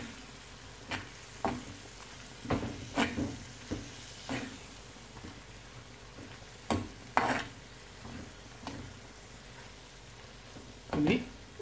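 Prawns and coconut chips frying in coconut oil, with intermittent scraping stirs and soft sizzling in the pan, a few sharp strokes standing out over a steady low background; a voice is faintly present.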